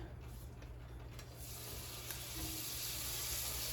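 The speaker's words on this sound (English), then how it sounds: "I'm going to go ahead and throw in this squash and zucchini and onions in my pan" Squash, zucchini and onions hit a hot pan, and the sizzle rises to a steady, close hiss with light stirring.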